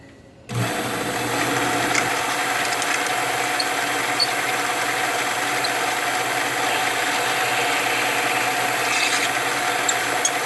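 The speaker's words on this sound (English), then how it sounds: "First it's going to pierce the aluminum, and then there's the mild steel behind it." A drill bit boring through aluminum into mild steel behind it, starting abruptly after a short quiet and then running as a loud, steady whine and grind with faint squeals on top.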